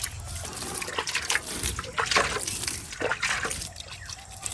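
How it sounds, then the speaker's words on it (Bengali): Water poured onto vegetable plants in a home garden in the evening, uneven splashing and trickling in close bursts as the stream moves from plant to plant, no talk over it. "সেটিটাকে একটু জল দিচ্ছি সব গাছ জল দেওয়া হয়ে গেল"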